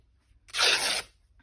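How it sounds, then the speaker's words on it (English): Fabric torn by hand into strips makes one loud, close rip lasting about half a second, with quiet before and after. "The fabric doesn't rip straight"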